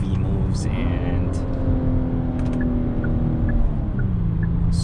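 A 2022 Genesis GV70 SUV with a 3.5-litre twin-turbocharged V6 accelerates, heard from inside the cabin as a steady, loud engine drone that climbs in pitch under road and wind noise.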